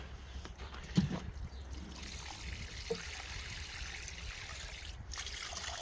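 Water trickles and pours steadily over a low outdoor background hum, with a couple of faint clinks near the start.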